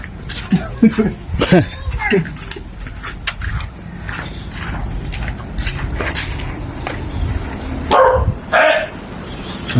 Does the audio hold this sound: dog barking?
yes